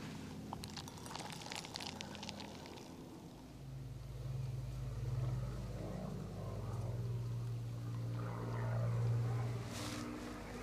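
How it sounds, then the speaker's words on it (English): A distant Spitfire's Merlin propeller engine drones low and steady from about a third of the way in, swelling slightly, after rustling noises at the start, heard from behind trees during a Royal Air Force display. "Behind the trees, you can hear the Merlin engine"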